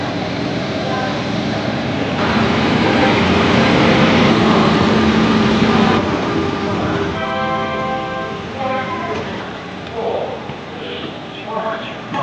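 The Bareilly–New Delhi Intercity Express, hauled by a W5 locomotive from Ghaziabad shed, pulls out of Moradabad Junction with a loud, steady rumble and wheel noise. A tonal hoot rises midway, and voices are heard faintly at times.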